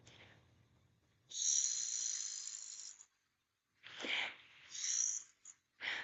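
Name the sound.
qigong spleen sound imitated, soft snoring-like CHWOOO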